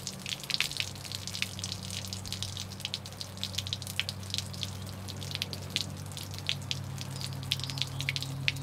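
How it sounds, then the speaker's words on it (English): Water runs steadily from an RV faucet on the cold line while the water pump operates, a continuous splashing stream with crisp drips and spatters over a low, steady pump hum. "You can see with the pump running, there's quite a bit more water coming out now"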